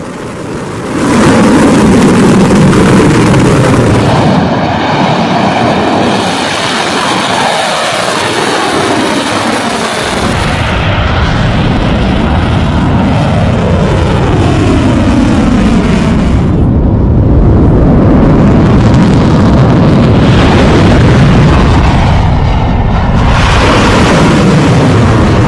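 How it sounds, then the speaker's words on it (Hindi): A continuous loud roar of an Iranian missile barrage rumbles on with booming surges and shifting whooshes, dense and heavy throughout, with no speech over it. "ईरान ने मिसाइलों के 57वें चरण की शुरुआत की है और उसके तहत यह बौछार की"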